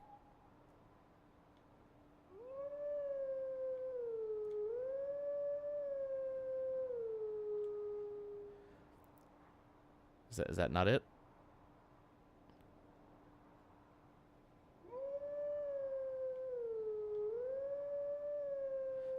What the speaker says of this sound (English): I think I have to cross the actual line with the howl.